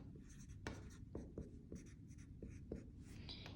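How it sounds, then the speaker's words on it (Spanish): Someone writes out a math problem by hand, quiet scratchy pen or pencil strokes in short irregular bursts with small taps between them. "Eso yo lo escribo de esta manera"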